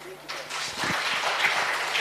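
Audience at a book launch claps for a team of scholars and artists, a soft, steady patter of applause building after a quiet start, with voices underneath.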